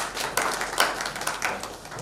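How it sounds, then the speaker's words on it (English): Audience applause at a KREC class of '76 reunion, a fairly thin scattering of claps at moderate-to-low volume, with a few sharper individual claps standing out. "Round of applause."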